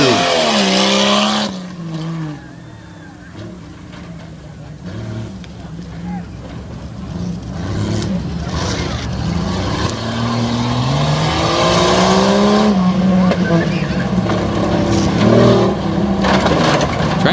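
A tough truck racing engine revs hard at Dragway 42 in Ohio, a loud, sustained roar rising and falling in pitch over about seventeen seconds, heard beneath a commentator's continuous talk.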